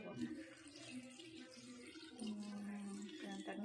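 Water runs steadily into a pressure cooker, a continuous splashing pour with a faint rising tone as it fills, close by.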